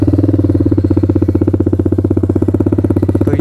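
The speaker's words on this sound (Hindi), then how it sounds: "तो ये एग्जॉस्ट साउंड अभी न्यूट्रल में है।" A TVS Apache RR 310 motorcycle with an SC Project exhaust idles in neutral: a loud, close, steady burbling pulse with a fast, even rhythm throughout and no other sound.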